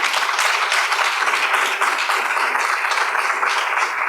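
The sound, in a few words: audience applause at business forum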